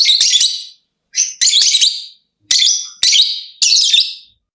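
Five loud, piercing high-pitched lovebird chirping calls in quick bursts, each sharp and shrill, separated by short silences.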